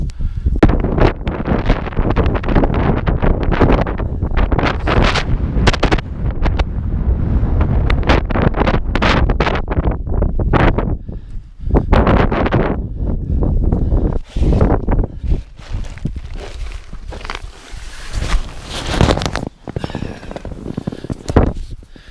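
Strong icy wind buffeting the microphone at a mountain wild camp, loud roaring gusts rising and dropping in waves, with a few brief quieter gaps.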